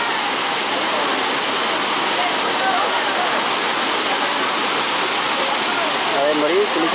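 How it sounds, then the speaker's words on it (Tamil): Hogenakkal waterfall in Tamil Nadu pours with a loud, dense, unbroken roar of crashing water, close and steady throughout. "அருவி பாருங்க, அப்படியே அழகாக சூப்பராக கொட்டுது பாருங்க."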